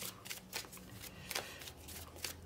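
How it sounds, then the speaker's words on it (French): Tarot cards are shuffled by hand in a rapid run of soft, papery riffles and slides, close and fairly quiet, with no voice heard. "Alors, je vais rajouter une autre carte."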